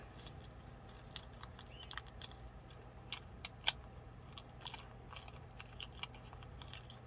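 Scissors snip around a cured UV resin earring piece, giving a series of quiet, close, irregular cuts and crunches with one sharper snap in the middle.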